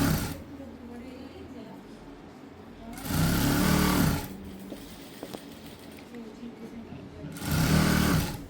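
Sewing machine stitching folded-back fabric for a pencil-cut pant, two loud bursts of rapid motor whirring and needle clatter, close by, with quiet handling sounds and a voice heard around the stitching.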